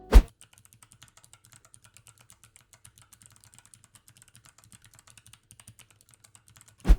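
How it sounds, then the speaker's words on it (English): Typing on a keyboard fitted with Kailh Box White clicky switches: a steady stream of quick, light clicks at moderate distance, bracketed by a sharp louder knock at the very start and end. "Kailh Box White switches have a relatively light tactile bump compared to other clicky switches, and a loud,"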